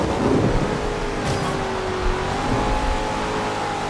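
A Corvette's engine in Forza Horizon 2 roars steadily at close range, the revs held high and even, with a brief brighter swell partway through and no voices over it.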